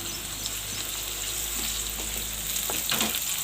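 Capsicum sautéing in a pan for Indian-style masala pasta: a constant, close hissing sizzle throughout, with a few soft stirring scrapes near the end.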